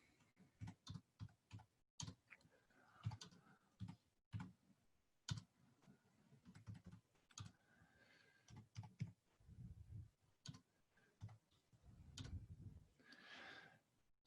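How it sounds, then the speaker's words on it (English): Numbers being typed at random on a computer keyboard, a quick irregular run of close, sharp key clicks in short bursts with brief pauses, no talking. "here we're just typing in numbers"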